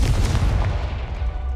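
A Confringo blasting spell erupts in Hogwarts Legacy with a loud, deep boom and a rumbling roar that gradually fades over a second or so, heard alone without any voices.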